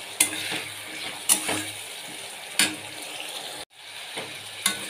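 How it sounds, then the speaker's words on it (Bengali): Spices sautéing in a pan for a Bengali chhana dal, with a steady close sizzle and a few sharp scraping stir strokes at intervals, ending in a brief silent gap before the frying resumes. "তো এবার ওটা দিয়ে দেব, মশলা কিছুক্ষণ কষাবো।"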